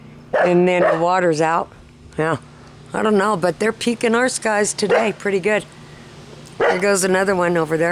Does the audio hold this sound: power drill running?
no